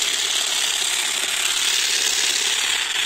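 A Parkside mini edge trimmer cutting a lawn border, a dense continuous buzzing rattle of reciprocating blades, close and steady throughout with no pauses.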